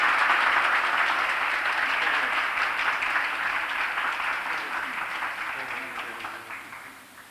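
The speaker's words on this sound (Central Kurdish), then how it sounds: "قوتابی دووەممان خاتوو زینە خەسرۆ بە چەپڵەیەکی قایم پێشوازی لێ بکەین." Loud, steady audience applause welcoming a student at a ceremony introducing students admitted to high-ranking colleges, a dense wash of clapping that gradually tapers toward the end.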